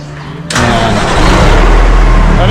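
A 1981 Kenworth W900A truck engine is started with a key: a brief crank, then the big diesel catches abruptly and settles into a loud, close, steady rumbling idle.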